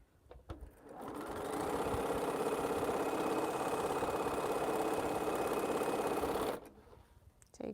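Sewing machine stitching quilt fabric pieces, a steady rapid mechanical whir running for about five seconds at close range after a few soft clicks, then cutting off.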